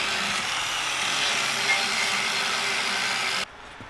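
Angle grinder grinding metal in a workshop while building a giant trebuchet, a steady, loud, hissing whine running continuously for several seconds before cutting off abruptly.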